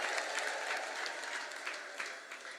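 Applause fills a worship service, a dense, sustained clatter of many hands clapping at close range, with crowd noise blended in and no clear talk.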